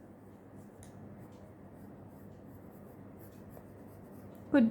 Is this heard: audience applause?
no